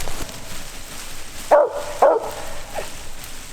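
Hunting dogs out after a squirrel in the woods give two loud barks in quick succession, then a fainter third yip, against a steady outdoor background hiss with no one speaking.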